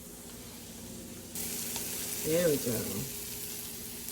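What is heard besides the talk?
peppers and onions sizzling in a pan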